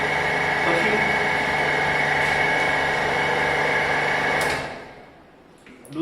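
A timber specimen is crushed under a hydraulic compression testing machine, its steady loud mechanical drone running evenly and then dropping away sharply near the end as the machine is stopped after the specimen fails.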